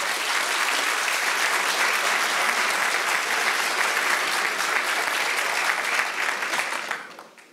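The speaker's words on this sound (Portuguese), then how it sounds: "Uma salva de palmas ao ministro." Thunderous, continuous applause from a conference audience greets a minister at the closing session of a construction business forum, holding steady and then fading away in the final second.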